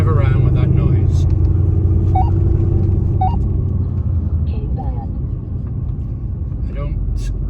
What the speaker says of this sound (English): 750 people are going to overpay for a car and drive around with that noise.